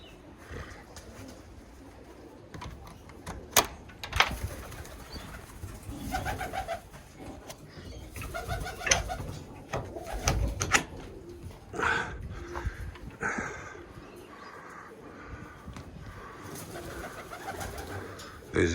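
Birmingham Roller pigeons coo softly in a north-facing steel aviary. Their low murmuring calls run steadily through the clip against rustling and light clatter, with a faint bark in the background.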